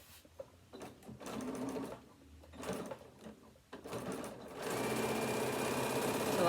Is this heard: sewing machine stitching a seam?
yes